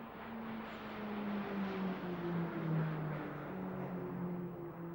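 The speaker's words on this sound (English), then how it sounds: "2 aircraft splitting off from the 3." Several propeller-driven trainer aircraft flying in formation at an air show, with one group splitting off: a steady, droning engine roar with slowly shifting tonal hum, moderately loud and continuous throughout, with no talk.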